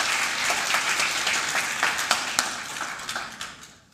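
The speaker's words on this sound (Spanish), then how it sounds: "Un aplauso fuerte a todos." A church congregation applauds during a service, dense crowd clapping that swells with sharp individual claps standing out, then thins and fades toward the end.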